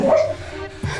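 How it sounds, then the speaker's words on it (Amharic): A dog gives a short bark and whine, loud and close, during an argument in a scripted drama. "ውሻ"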